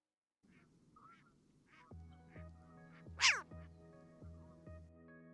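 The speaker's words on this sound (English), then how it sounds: "I hear the geese in that clip" Honking waterfowl calls: a string of nasal, goose-like honks with one loud, shrill cry in the middle, plus a repeated low thumping pulse.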